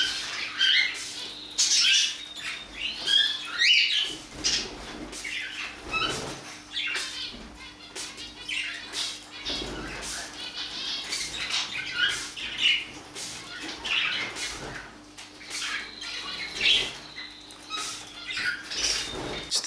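Budgerigars squawking and scuffling over water in an indoor cage, bursts of sharp scratchy calls and chatter, close and moderately loud, repeating irregularly throughout with faint pattering in between.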